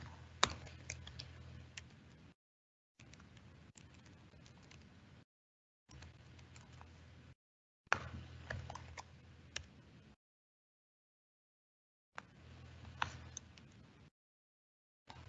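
Computer keyboard typing comes in several short bursts of quick, quiet clicks separated by silent gaps, close and soft, with no voices.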